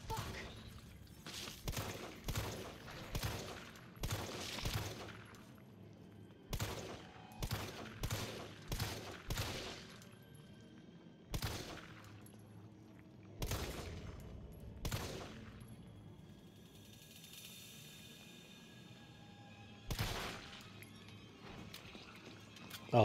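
Gunfire in the video game Resident Evil 3 Remake, bursts of rapid shots in clusters separated by short pauses, loud and close, with metallic clinks between bursts.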